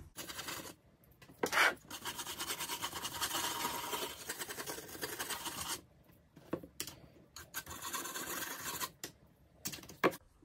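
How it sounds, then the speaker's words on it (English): Cloth rubbing dark wax back off a thrifted furniture piece, a soft rasping scrub in long strokes with short gaps between passes, close but fairly quiet. "Gonna do a little bit at a time and then just wipe back any excess."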